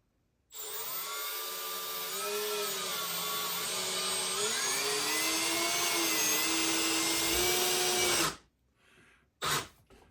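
A power drill drives a screw into a wall stud while a cast iron rack is being mounted in a kitchen, a loud sustained whir whose pitch sags as the screw bottoms out, then stops, followed by a brief second burst.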